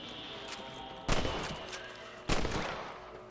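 Two sharp rifle shots in the Western video game Red Dead Redemption, about a second apart, each cracking loudly and fading quickly against a quiet background.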